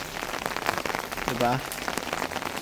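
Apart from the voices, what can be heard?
hail falling and bouncing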